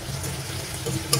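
Masala for prawn curry fries in a pan while being stirred, a steady close hiss with a faint scrape near the end, brief and without speech.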